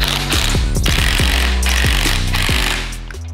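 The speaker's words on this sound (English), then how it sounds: "Now we're gonna put the nut back onto the strut here." A power tool, likely an impact wrench, runs nut onto the strut of a Mercedes E63 W212 during a lowering spring install: a loud steady mechanical buzz with repeated hammering pulses, close up, alone.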